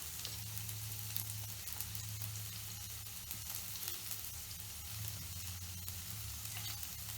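Two dried red chillies sizzling in hot oil while tempering for kodo millet sambar, a steady soft crackling fry with no talk over it.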